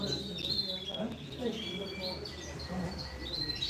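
Canaries, singing males at a bird auction in Ümraniye, trill and chirp steadily in the background, moderately near, with a murmur of voices and room noise throughout.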